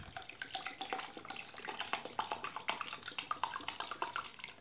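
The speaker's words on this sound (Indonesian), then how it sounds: "Kemudian kita tambahkan air dingin biasa." Cold tap water pouring steadily into dissolved milk powder, a continuous close splashing stream with fluttering bursts, fairly quiet and alone.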